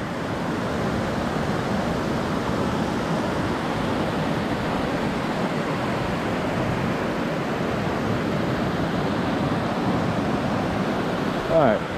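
A waterfall on the Upper Siouxon Trail in Gifford Pinchot National Forest, Washington, gives a steady, close rushing roar of falling water that stays constant throughout.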